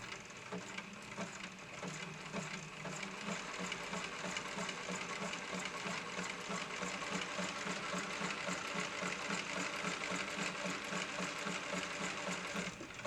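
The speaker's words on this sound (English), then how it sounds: "it sews a straight and a zigzag stitch very nicely" An Elna 9000 computer sewing machine runs steadily up close, its rapid needle clatter and motor hum continuing evenly and fairly quietly with no talking.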